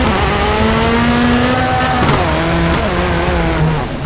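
A Ford GT rally car in the WRC 4 video game, on a Wales Rally GB stage, snarls through a hairpin under the handbrake, its engine note dropping and rising again with tire scrub, loud and close, with no voices.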